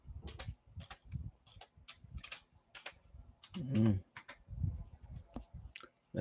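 Typing on a computer keyboard, close quick bursts of clicky keystrokes in uneven clusters, with a voice talking in between.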